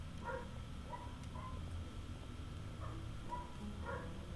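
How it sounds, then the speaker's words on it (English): Dogs bark in the Genshin Impact video game, a few faint, spaced barks repeating over a steady low background drone, with no talking. "Dogs are loud again."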